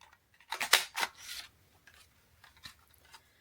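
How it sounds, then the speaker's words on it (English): A handheld paper punch bites through leftover cardstock offcuts in a few quick, crisp crunching clicks, close and fairly quiet, followed by faint rustling. "I'm going to use my paper punch."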